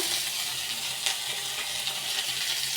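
Panch phoron spices and ginger frying in hot oil in a pan, a steady close crackling sizzle with small pops, no voices.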